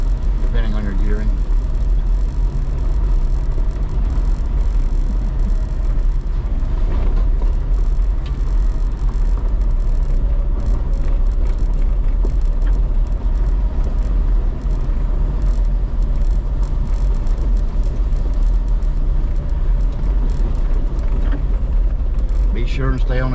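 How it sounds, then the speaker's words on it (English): An old Jeep with a 3-speed automatic crawls along a trail in second gear, its engine a steady, loud low rumble with mechanical rattles throughout, and a voice talks over it. "I've got an old 3-speed automatic in this Jeep, so I'm running in second gear."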